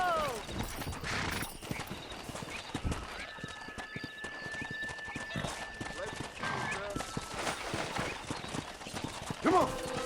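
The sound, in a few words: horses galloping and whinnying in Red Dead Redemption video game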